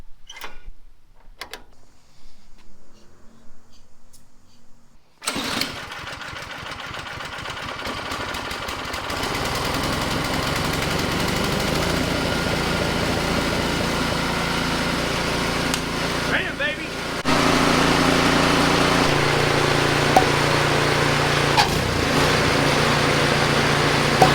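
An MTD Yard Machines Craftsman Troy-Bilt snowblower, its carburetor just cleaned, starts after a few quiet pulls and settles into a loud, steady near engine run that steps up louder toward the end.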